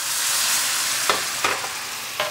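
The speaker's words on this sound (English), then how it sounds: "I love that little sizzle there" Loud, steady sizzling of chipotle BBQ sauce with ketchup and vinegar in a hot pan, with a few brief stirring clicks or scrapes near the end.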